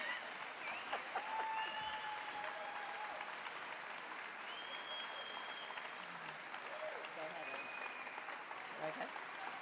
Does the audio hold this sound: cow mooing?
no